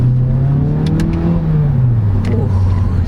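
A Mazda 3 Hatchback Premium accelerating in sport mode, heard from inside as a loud, steady engine drone with pitch rising and easing through the pull, joined by road noise and a few faint clicks.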